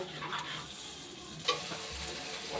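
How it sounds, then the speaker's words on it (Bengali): Spice masala for a green banana kofta curry is cooked down in hot oil in a pan, giving a steady close sizzle with stirring scrapes and one sharp utensil clink partway through. "এবার মশলাটাকে একটু ভালো করে কষিয়ে নেব।"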